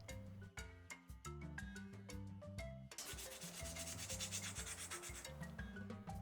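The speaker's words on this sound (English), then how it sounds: "Dip it in the water and rub your leaf to remove all the scratches." Wet sandpaper rubs back and forth over a small leaf pendant in rhythmic strokes, a soft scratchy sound largely buried under background music.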